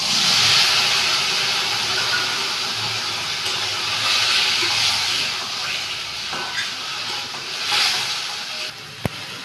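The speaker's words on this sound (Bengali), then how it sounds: "এবার আমি এই মশলাটা দিচ্ছি, আদা জিরে লঙ্কা টমেটো পেস্ট করা আছে" A paste of ginger, cumin, chili and tomato hits a pan of fried potatoes and onions for a fish roe fritter curry, releasing a loud, steady sizzling hiss that eases slightly, with a sharp click near the end.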